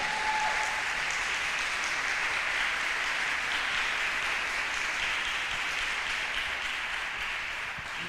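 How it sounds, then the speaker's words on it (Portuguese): Congregation in a church service applauding steadily, a dense sustained wash of clapping from many people that holds for the whole stretch and fades slightly at the end. "Dê uma salva de palmas para Ele."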